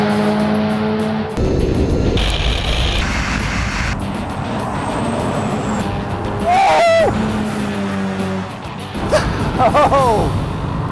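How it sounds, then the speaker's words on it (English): An Audi SQ7, a Honda Civic Type R and a Mazda MX-5 launch in a standing-quarter drag race, with engines roaring and rising through gear changes and shifting pitch, loud and continuous, while a voice talks over it. "that SQ7 has just taken off something crazy! Can I beat the Type R? It's gaining on me, can I beat it over the standing quarter?"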